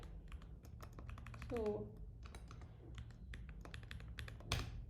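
Quiet clicking of a computer keyboard as code is typed, irregular quick keystrokes in bursts, with someone speaking softly over the tapping.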